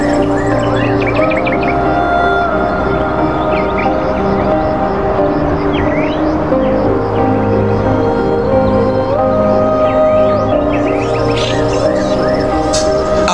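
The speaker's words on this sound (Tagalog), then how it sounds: "Sila po ang mga migratory birds na manggagaling po sa Australia" Migratory birds call at the Las Piñas-Parañaque Wetland Park, a dense, loud chorus of chirps and whistles layered over a steady insect-like drone, continuous throughout with no voices.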